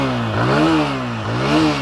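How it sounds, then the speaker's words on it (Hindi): A Honda 160cc motorcycle engine revs up and settles back twice as the throttle is blipped, a loud, close engine note rising and falling in pitch with no talking. "थ्रॉटल देता हूँ"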